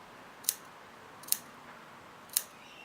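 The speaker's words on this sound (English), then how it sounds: "cut into the seam allowance" Scissors snip into a fabric seam allowance, three crisp separate cuts spaced about a second apart, close and fairly quiet over a soft room hush.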